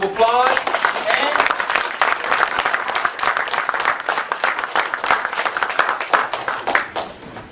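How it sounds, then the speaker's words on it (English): An indoor audience applauding a speaker at an assisted living event, a dense burst of clapping that stays strong and then gradually thins out, with a voice briefly audible at the start. "Everybody, let's give Anne Saka a big round of applause."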